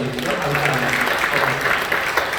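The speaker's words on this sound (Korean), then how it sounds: "박수 한번 해주시죠." A church congregation claps at an early-morning prayer service, a steady wash of many hands filling the room with a voice speaking faintly beneath it.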